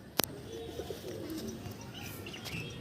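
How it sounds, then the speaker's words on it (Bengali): Andra pigeons from a Delhi pigeon collection coo softly in a loft, low repeated murmurs with a sharp wing clap at the start and faint chirps later. "এটা আন্দ্রা পায়রা"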